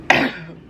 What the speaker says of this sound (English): this dry cough is still here